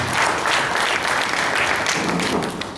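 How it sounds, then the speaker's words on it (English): Applause from the audience at a lecture series, thick continuous clapping at full strength for nearly three seconds, easing slightly at the close. "Another round of applause for him"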